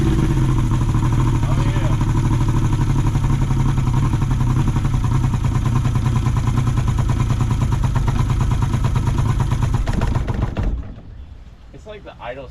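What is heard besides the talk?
small motor engine starting and idling on a DIY boat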